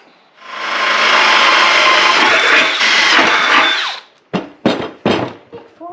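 A loud power drill runs steadily for several seconds drilling holes in a barrel, then stops, followed by a few short, sharp clattering knocks close by.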